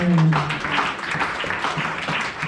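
A church congregation applauds the Lord during a French-language worship service, a dense, steady wash of clapping that fills the room throughout, with a brief tonal voice or note at the start.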